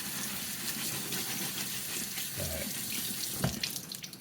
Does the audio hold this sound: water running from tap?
yes